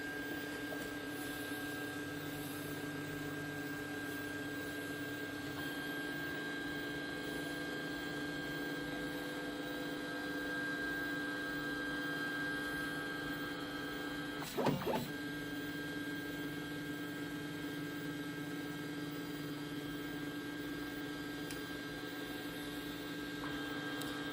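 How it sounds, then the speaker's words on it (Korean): A 3D printer runs a test print from its SD card, giving a steady mechanical hum with faint whirring motor tones throughout and one brief clattering knock partway through, close and moderately quiet. "프린트 from SD 버튼을 누르시고 테스트 1번부터 한번 진행을 해보겠습니다"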